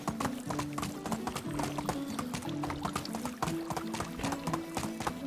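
Steady clip-clop of horse hooves in the video game Medieval Dynasty trots along at an even rhythm over a background melody, with no speech.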